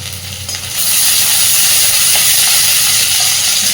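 Onions and plenty of green chillies frying in hot oil, a loud, dense hiss of sizzling and steam that swells within the first second and then holds steady and close.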